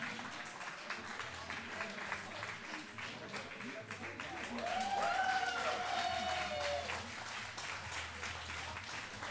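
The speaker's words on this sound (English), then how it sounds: "They're obviously just clapping" Audience clapping at a UNIST fighting game tournament during top 4, a steady spread of applause from a crowd that swells midway, with voices mixed in.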